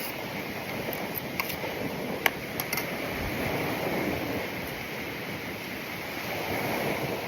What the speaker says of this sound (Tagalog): Sarap talaga sa mga pakinggan ng hampas ng alon